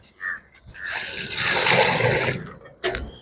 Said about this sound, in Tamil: தண்ணி ஊற்றலாங்க